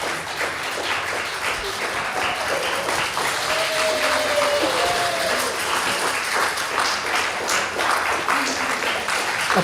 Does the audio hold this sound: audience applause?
yes